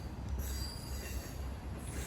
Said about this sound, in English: Here's a locomotive hauled train with the traditional coaches.